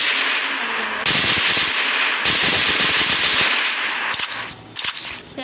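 Rapid video-game gunfire crackles in two sustained automatic bursts, loud and close, followed by a few separate single shots near the end, with no talk.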